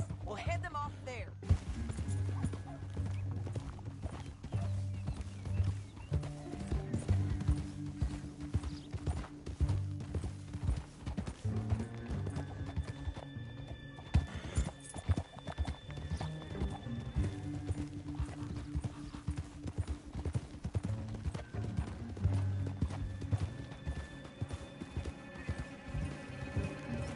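Steady clip-clopping horse hooves run throughout in Red Dead Redemption 2, with an occasional horse whinny, mixed with game music and voices talking over the top.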